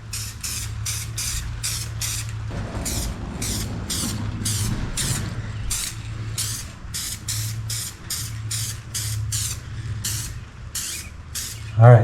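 A light coat of aerosol paint is sprayed onto a sticky squarebody steering wheel during a restoration, in a rapid series of short, even hissing bursts over a steady low background hum, with no talking.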